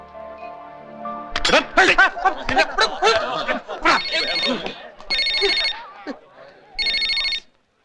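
A telephone rings in three short electronic bursts near the end, following a stretch of laughter and chatter from several people.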